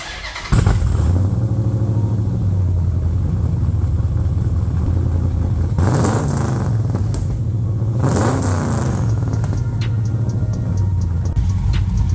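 A car engine fitted with aggressive camshafts fires up on a test drive and settles into a loud, choppy lumpy idle, with two strong revs midway that rise and fall, close and continuous.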